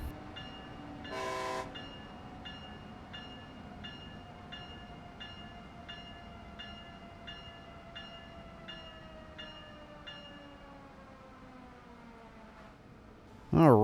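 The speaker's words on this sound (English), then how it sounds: "we are going to come to an emergency stop here due to an overspeed penalty" A simulated Amtrak train on the Northeast Corridor in Train Sim World 2 slows to an emergency stop after an overspeed penalty, with a steady rumble under a repeating warning beep and a brief loud blast near the start.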